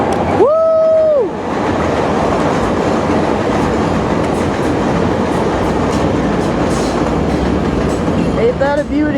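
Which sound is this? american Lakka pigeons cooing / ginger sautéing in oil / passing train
passing train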